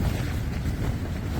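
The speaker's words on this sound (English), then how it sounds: "Those winds are hitting very hard now." Strong wind buffets a camping tent during an incoming rainstorm at dawn, a dense, roaring rush of gusts and flapping noise filling the space, loud and close with no voices.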